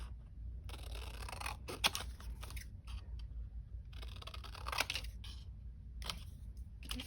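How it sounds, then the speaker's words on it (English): Scissors snip through printable paper tags for a junk journal craft kit, giving a series of crisp, close cutting crunches with short pauses between strokes and no talking. "So we're just going to cut out these tags."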